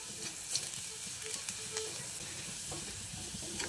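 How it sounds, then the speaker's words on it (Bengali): Garlic fries in oil while being stirred, a soft steady sizzle with light scraping and clicks of the spoon against the pan, quiet and close. "রসুনটা দিয়ে প্রথমে তেলের সঙ্গে নেড়ে চেড়ে ভেজে নিচ্ছি।"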